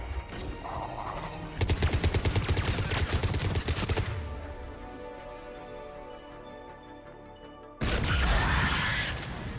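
Dense bursts of automatic gunfire from the Omega DLC of Mass Effect 3, a rapid volley in the opening seconds, then a stretch of sustained rapid shooting, a lull with ringing tones, and a loud renewed barrage near the end.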